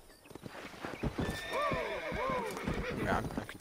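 A horse in Red Dead Redemption whinnies loudly and clearly with rising and falling neighs, accompanied by clip-clopping hooves and shuffling movement, while a person talks over it.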